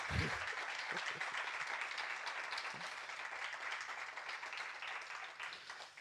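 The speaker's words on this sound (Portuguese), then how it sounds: "Vamos ficar de pé e dar uma salva de palmas a Deus" A standing church congregation at a Sunday service applauds in praise, giving a sustained, even wash of many hands clapping at a moderate distance with no voices over it.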